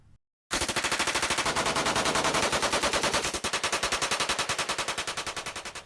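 A machine gun fires one long sustained automatic burst, with rapid, evenly spaced loud reports that run for about five seconds after a short quiet start and fade slightly toward the end.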